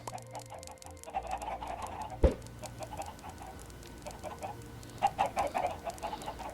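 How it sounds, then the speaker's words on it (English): Chickens cluck in a Minecraft-style video game farm pen with a Bronze Age theme, soft repeated clucks in small clusters over light pattering ambience, fairly faint. "This is my meat chicken."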